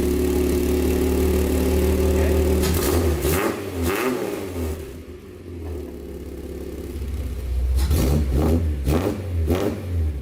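A Datsun 280Z engine with a new adjustable exhaust revs up loudly and holds a throaty drone, then drops briefly toward idle before climbing through several strong revs again, heard close and without talk.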